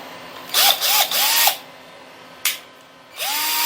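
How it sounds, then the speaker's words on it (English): A power drill whirs in several short bursts while drilling a hole, motor pitch rising as each burst spins up, with quiet pauses between, close and fairly loud. "I'm just going to make a quick drill hole through here."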